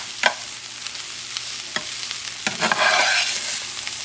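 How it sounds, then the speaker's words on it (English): A spoon stirs pigeon peas and rice in a pot, producing several distinct scraping knocks against the pot, then a louder rustling stir and sizzle toward the end, close and without speech. "I'm going to mix everything up."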